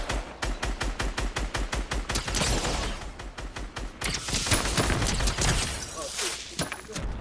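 Gunfire in Fortnite, a rapid rhythmic series of close shots followed by denser, overlapping bursts and blasts, loud throughout with some voices underneath.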